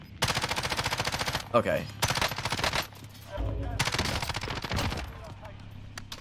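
Rapid automatic fire from a MAC-10 submachine gun in a first-person shooter game, several loud close bursts of quick repeated shots, with someone speaking briefly between them.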